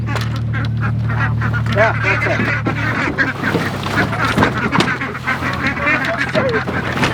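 Homestead ducks quack and honk in loud, overlapping bursts close by, with a low hum early on and a person talking briefly among the calls.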